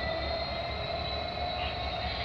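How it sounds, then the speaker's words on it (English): A CP freight train idles stopped at Kinnear Yard in Hamilton, Ontario, giving a steady, continuous diesel rumble with a constant high whine, fairly close and unbroken, with no one talking. "Okay, we got a 247 CP train stopped here."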